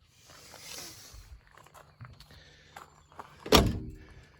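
A worn-hinged, crooked door on a 1975 Dodge Dart Swinger creaks on its hinge with soft rubbing scrapes, then slams shut with a loud, heavy thunk that rings briefly.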